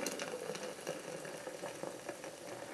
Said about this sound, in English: I just give it a quick stir to make sure I've got all the grounds evenly immersed